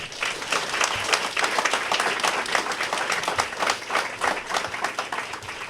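At a 2021 Fourth of July ceremony honoring teachers, an audience breaks into full, lively applause, with many sharp individual claps in a continuous, fairly loud burst and no talking.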